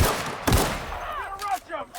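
Gunfire in the video game The Outer Worlds: a loud opening blast followed by a fading reverberant tail with faint whistling and chirping effects, over a busy game background.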